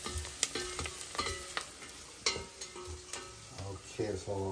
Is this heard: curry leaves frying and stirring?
yes